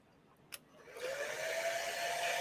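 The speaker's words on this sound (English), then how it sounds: "I'm going to take the hairdryer to this real quick." Handheld hair dryer blowing on glued costume material at a comic convention, a brief click and then a steady whooshing motor hum starting abruptly and running on continuously, close and moderately loud.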